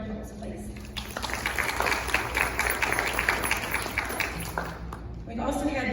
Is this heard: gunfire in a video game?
no